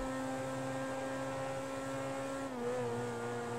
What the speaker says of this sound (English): I love the sound this car makes.